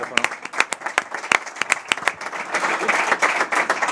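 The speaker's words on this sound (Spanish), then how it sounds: "un aplauso para él" Scattered applause from an audience at a university sports programme presentation, starting as sparse separate claps and thickening into a denser, steadier clapping toward the end.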